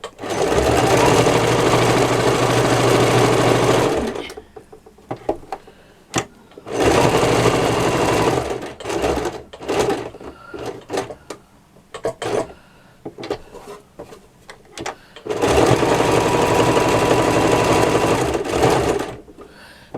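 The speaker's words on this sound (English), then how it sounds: "Mine is an old sewing machine." An old sewing machine stitches fabric for machined patchwork in three loud, close bursts of rapid whirring, with quiet handling clicks and rustling between runs.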